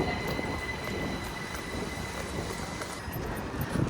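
A train rolls into a station in England on the Brighton service with a heavy rumble and clatter, thin high wheel squeals ringing over the steady rail noise.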